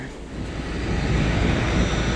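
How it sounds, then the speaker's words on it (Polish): A passenger airplane at an airport gate bound for Cork, a broad, steady roar of engine and rushing air that swells slightly and stays loud and close throughout. "I to już jest samolot do kork."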